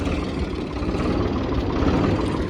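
A steady, low tractor engine rumble idles continuously at close range, with a faint rattling knock and no voices.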